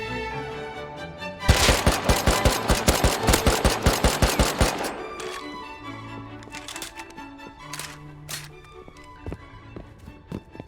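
Rapid automatic gunfire in the video game Rust, a fast steady burst of about twenty shots lasting several seconds, followed by scattered single shots and clicks, loud and close, no talking.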